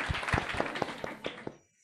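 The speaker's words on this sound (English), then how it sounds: "Those claps are like, yay, yay." An audience claps in a brief, sparse burst of about eight distinct claps, moderately quiet, thinning out and fading to silence at the end.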